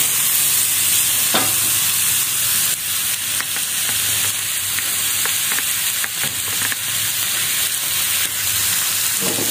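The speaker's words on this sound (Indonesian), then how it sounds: "Nih ayamnya masukin. Tumis-tumis sebentar ya ayamnya." Chicken stir-fried in a pan with shallots and garlic, a steady close sizzle broken by occasional scraping stirs, with no voices.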